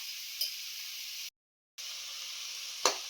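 Grated carrots for carrot halwa frying in ghee, a steady hissing sizzle with occasional stirring scrapes, broken by a brief silent gap, close and without talk.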